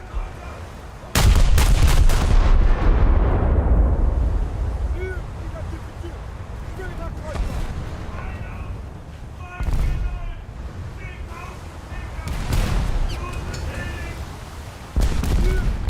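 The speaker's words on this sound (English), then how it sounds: "Those are decent salvos" Battleship main-gun salvos in a naval video game fire as loud, booming blasts, followed by long rumbling decay and further heavy reports, with someone talking over them.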